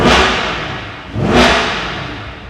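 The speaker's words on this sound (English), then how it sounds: "when we open the valves, it's a huge difference" A 2022 Chevrolet C8 Corvette 3LT with the Z51 performance exhaust, valves open in track mode, gives two loud, close revs, each rising sharply and then falling away.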